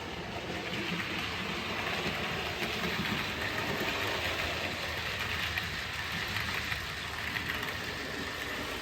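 On a home layout a model railway train rolls along with a steady, even rumble and faint clicking from the track. The sound is continuous and fairly close, with no one talking.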